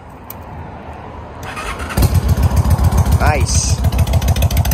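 A Honda Shadow 750cc motorcycle engine cranks and catches on a freezing cold morning, then settles into a loud, loping idle with steady rhythmic pulses; someone speaks briefly just before it fires.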